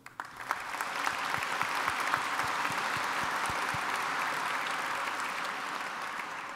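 A large audience at the 2017 Franklin Institute Awards ceremony bursts into sustained applause, a dense, steady wash of many hands clapping that swells quickly and holds evenly loud throughout.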